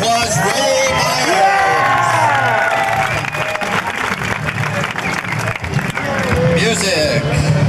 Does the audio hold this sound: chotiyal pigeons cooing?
no